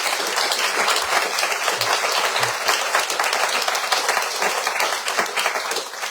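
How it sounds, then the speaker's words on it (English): A book-event audience at Square Books gives a robust round of applause: dense, sustained clapping from many hands with no talk over it, filling the room at an even level throughout. "we need to give him a robust round of applause"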